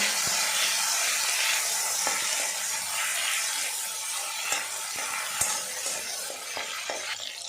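Ginger paste with chopped tomato and a little salt frying in a pan for a cabbage dish, giving a steady close sizzle with occasional scrapes and clicks of a stirring spoon, no voices.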